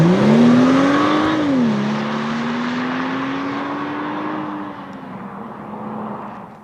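2013 BMW X1 xDrive35i accelerating hard, its engine rising in pitch, dropping briefly at a gear change, then climbing steadily again, loud and close from inside the car, with no talk.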